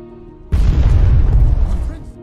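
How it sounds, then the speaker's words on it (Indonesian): A lifeboat bursts in a sudden explosion in the Avatar: The Last Airbender series, a loud, close, deep boom that erupts abruptly and rumbles for over a second before fading. "tiba-tiba sekoci yang ditumpanginya meledak"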